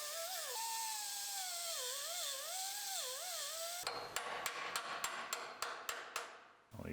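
Welds on a bracket of a 2020 Griffin dump trailer are knocked loose with a breaker: after a shrill whining tone, a series of about eight sharp metallic hammer blows ring out in quick, regular succession, close and loud.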